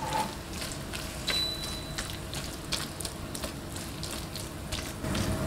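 Noodle batter frying in warm cooking oil in a pan, a steady broadband sizzle and crackle with scattered pops throughout, close and continuous with no talk.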